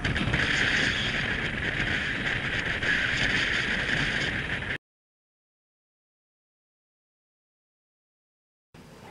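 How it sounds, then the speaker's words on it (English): Steady wind buffets the microphone over the front of a sailboat on open water in rough weather for several seconds, then cuts to silence before a brief return of the rushing noise. "you can hear the wind."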